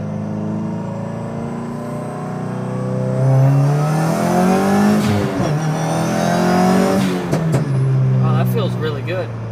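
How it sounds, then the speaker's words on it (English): A Subaru WRX engine revs and drops as the car is rowed through the gears with a Kartboy shifter, rising and falling in pitch over several shifts, loud and close, with someone talking over it. "I'm going to go ahead, row through some gears,"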